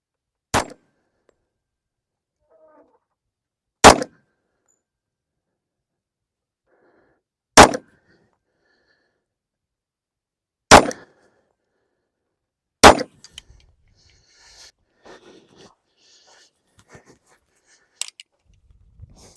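Five sharp, loud .45 ACP pistol shots from a Les Baer Concept III 1911, fired at a range at slow, even intervals of about three seconds, each a crisp crack with brief ring, followed by faint handling clatter and one more distant pop.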